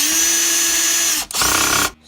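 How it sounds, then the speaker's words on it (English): A power drill fitted with a T8 bit whirs at a steady high pitch for over a second, stops briefly, then spins up again and cuts off, loud and close. "now I gotta get a T8 bit in my drill."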